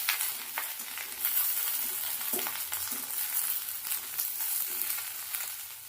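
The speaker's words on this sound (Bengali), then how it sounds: "কমিয়ে দিয়ে হালকা করে একটু নাড়াচাড়া করে ভেজে নেবো" Pointed gourd (potol) fries on low heat in a pan, a constant close sizzle broken by soft, occasional scrapes of stirring, with no one talking.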